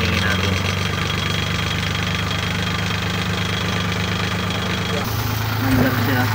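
Suzuki F6A engine idling in a multicab after a spark plug change, running with a steady low rumble and slightly uneven, misfiring beat, close and loud throughout, with a brief heavier surge near the end.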